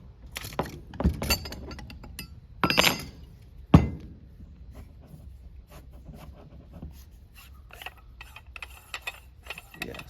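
Metal scraping and clicking from a spanner tool working the adjustment rings on coilover suspension for a Honda Prelude, a few sharp knocks early on followed by lighter intermittent ticks and clinks, close by.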